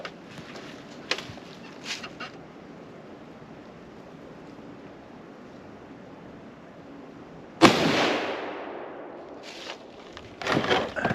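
A Mosin Nagant 1891/30 rifle fires a single loud, close gunshot whose boom decays into a long rolling echo, with quieter handling clicks before and after.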